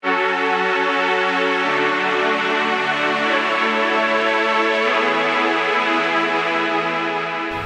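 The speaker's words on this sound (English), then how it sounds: "So the first thing I added is this pad." A sustained synth pad from the Silent One synth in an ambient electronic remix, rich and harmonically layered, holding steady chords that shift pitch partway through, loud and continuous on its own.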